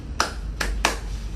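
Children clap along to a classroom action song, three sharp, separate claps spaced unevenly over a low, steady room background, with no voices at this moment.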